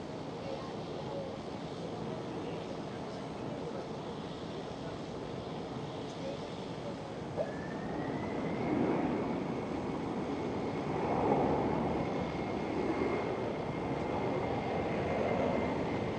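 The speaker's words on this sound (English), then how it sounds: "Oh yeah, some good reverser action." An Icelandair Boeing 767 lands at Amsterdam Schiphol, its thrust reversers building into a swelling roar over steady broadband rumble, with a rising whine joining midway; a voice speaks briefly over the noise.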